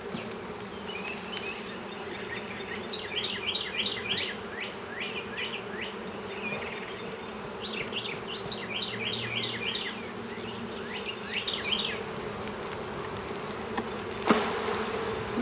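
Honey bees hum in a steady low drone throughout as bees are shaken from a hive frame, with scattered bird chirps in short bursts above the buzzing and a brief knock near the end.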